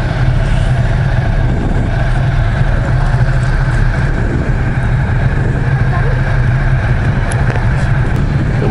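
A Ducati Diavel 1260 motorcycle engine idles steadily just after start-up, a loud, close, continuous low rumble lasting throughout with no talk over it.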